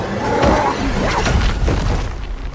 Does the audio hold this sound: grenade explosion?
yes